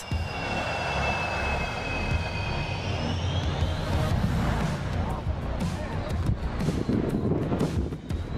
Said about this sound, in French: L'incroyable puissance du moteur à réaction du chasseur ukrainien Su-27.